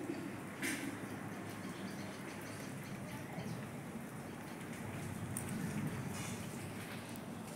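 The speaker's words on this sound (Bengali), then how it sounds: "বৃষ্টি হচ্ছে তবু গরম কমছে না" Steady, quiet rain falling outdoors during hot, humid weather, a soft continuous patter with a few brief louder taps, no voices.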